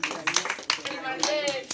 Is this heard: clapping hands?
yes